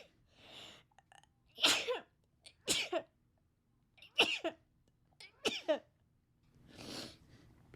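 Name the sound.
sneeze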